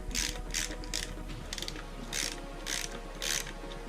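A ratchet loosens the shock absorber nut on a Yamaha YZ 125 dirt bike: close, sharp clicking bursts repeat in an uneven rhythm of quick back-and-forth strokes, with no voices.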